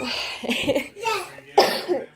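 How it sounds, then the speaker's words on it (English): Close, raspy coughs from someone getting over a chest cough, coming in short bursts of two or three separated by brief pauses. "I'm getting over some kind of like chest cough thing, so I'm a little out of breath"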